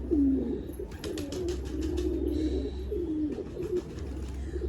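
A pigeon bred for flying coos softly and repeatedly over a low background hum, with faint chirps from other birds.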